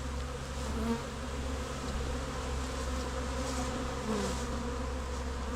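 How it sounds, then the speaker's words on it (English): Honeybees hum in a dense, continuous drone around crowded backyard hives on a hot, humid day, with individual bees buzzing close by now and then. "Lots of activity here with the hives."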